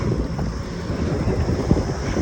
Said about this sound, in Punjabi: ਸੋਹਣਾ ਮੌਸਮ ਹੋ ਗਿਆ ਸਵੇਰ ਦਾ ਹਵਾ ਚੱਲ ਪਈ